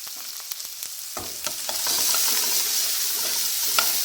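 Onion and garlic fry in hot oil with chili and curry leaves, starting with a few scattered pops, then swelling into a loud, dense sizzle with a spatula scraping now and then.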